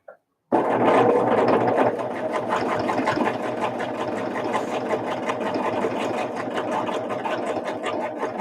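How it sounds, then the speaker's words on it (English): A sewing machine stitching a London Town sampler block, starting abruptly and then running steadily with a fast, even mechanical whir and rapid needle clatter, close and continuous. "Let's sew this one down."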